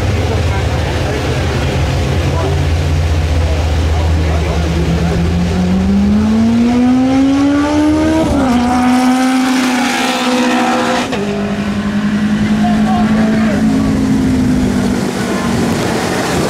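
Engines roar loudly during a roll race, with a red Chevrolet Corvette ZR1 making about 711 horsepower and a Honda Civic, their pitch climbing under hard acceleration, dipping at a shift, then holding high and steady, with voices faintly underneath.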